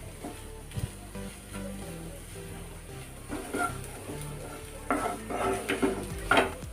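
Samosa stuffing seasoned with Kashmiri red chilli powder is stirred in a pan, giving scattered scraping and clinking of the spoon against metal, growing busier toward the end over a low background hum.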